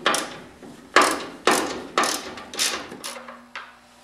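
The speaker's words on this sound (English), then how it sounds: "take a 7/16 deep socket wrench and remove these three nuts that are sitting at the top of the suspension" A 7/16 deep socket wrench ratchets off suspension top nuts on a British car, producing a series of about six sharp metallic clicking bursts in a steady rhythm, close and clear with no talk.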